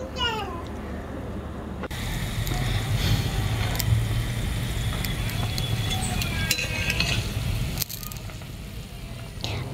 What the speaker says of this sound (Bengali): এই যে মাছগুলো দিয়ে আমি এখন এটা আবার জাল করতে দেবো। এই যে ফুটছে, জাল হচ্ছে